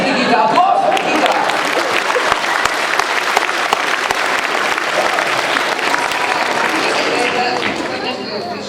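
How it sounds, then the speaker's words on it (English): A crowd at a science show in Germany claps steadily in loud, sustained applause, with some voices and chatter mixed in, fading slightly toward the end. "Applause for Nikita."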